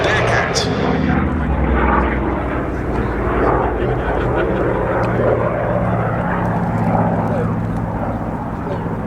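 Corsair and Bearcat naval fighter aircraft fly at a Duxford airshow, a loud, rumbling piston-engine drone with deep low throb, sustained and fairly close, slowly easing toward the end.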